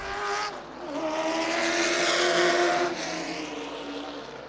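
Race cars roar past on the Florence Speedway oval during a Charger race, a loud sustained engine drone with shifting pitch.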